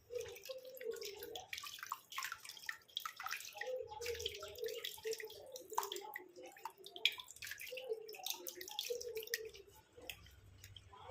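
Water splashes and drips as skin is rinsed and rubbed clean of a whole-body whitening pack, quiet close trickles and patters with soft handling sounds and no talking.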